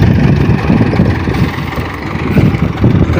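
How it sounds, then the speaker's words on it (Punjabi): A tractor with a wheat thresher running at a village harvest, its engine giving a loud, close, steady low rumble that pulses unevenly throughout. "ਥਰੈਸ਼ਰ ਟਰੈਕਟਰ ਆ ਗਿਆ"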